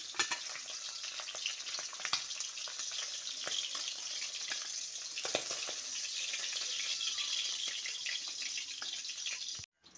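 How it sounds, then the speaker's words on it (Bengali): Tangra fish fry lightly in hot oil, giving a steady close sizzle with crackling spatters that runs unbroken for several seconds before stopping abruptly at the end. "একটু হালকা করে ভেজে নেব খুব বেশি কড়া করে ভাজলে ট্যাংরা মাছ শক্ত হয়ে যায়"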